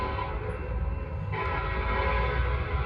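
Norfolk Southern freight train 154 led by locomotive 1214 sounds its horn, a sustained tonal blast held over the loud, continuous rumble of the passing train.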